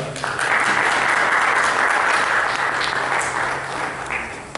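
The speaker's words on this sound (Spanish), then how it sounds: "Para recibirlo con un fuerte aplauso" An audience gives a welcoming round of applause for a lecturer at a university philosophy school event on symbolic logic, a dense and steady clapping that fills the room before fading slightly at the end.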